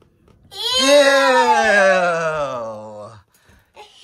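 A voice imitating a cat hacking up a hairball: one long, loud, strained wailing retch with a falling pitch, close up, followed by a faint short sound.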